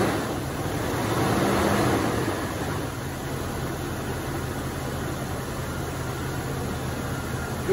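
A Jeep Cherokee XJ engine idles after a tune-up with fresh rotor, spark plugs and distributor cap, a steady, even hum with a slight swell early on, then holding constant.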